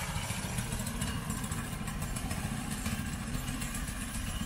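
A home-built 4-stroke motorized bicycle engine runs steadily and close by, with a dense, continuous low drone and a constant clattery rattle across the whole stretch.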